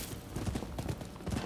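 Horse hooves clip-clopping in a quick galloping rhythm in the video game Rise of the Ronin, faint and steady over a second and a half.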